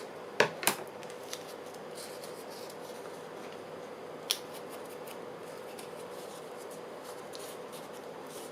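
Scissors trim paper for a handmade journal pocket, giving a couple of sharp snips near the start and one more midway, all faint against a quiet room hiss.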